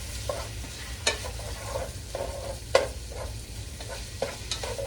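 Elk meat browns in about two tablespoons of vegetable oil with a steady, moderate sizzle, punctuated by occasional sharp clicks and spoon scrapes against the pot, heard close with no talking.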